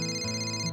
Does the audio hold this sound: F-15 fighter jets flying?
no